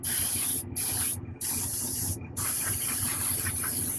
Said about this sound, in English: It's important to spray it at all angles upside down.